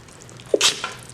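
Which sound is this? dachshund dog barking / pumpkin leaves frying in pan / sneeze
sneeze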